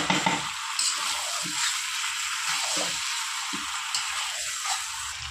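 Mutton and potato pieces being stir-fried together in a pan, a continuous bright sizzle punctuated by repeated stirring scrapes and soft thuds, close and steady.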